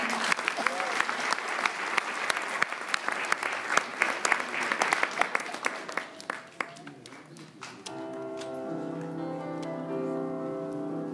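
A crowd applauds the artists after a family harmony stage play, with loud sharp claps and a few distinct hand strikes over roughly eight seconds before a voice takes over.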